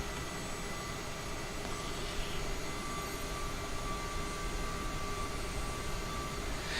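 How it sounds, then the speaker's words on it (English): A jet airliner sits on the ground in Microsoft Flight Simulator 2020 while it is pushed back and turned. Its engines give a steady, even whine and rumble with no talking. "Just going to do a bit of a 3-point turn with the pushback to get us set up on the taxi line."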